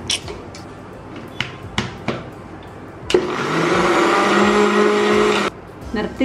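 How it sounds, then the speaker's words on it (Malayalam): A few clicks and knocks, then a mixer grinder beating three eggs whirs loudly for about two seconds before stopping abruptly. "മിക്സിയിലൊഴിച്ച് നല്ലതുപോലെ അടിക്കുക"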